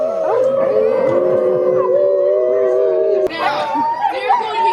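A crowd at Denali gives a loud, sustained group howl to welcome sled dogs, many overlapping voices imitating dogs and rising and falling together, with a few dogs joining in near the end.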